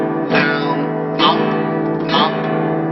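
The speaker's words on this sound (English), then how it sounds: "This would be an example of a strumming pattern" Guitar strummed with thumb or pick in a steady pattern of downstrokes, three bright full-chord strums about a second apart, close and alone.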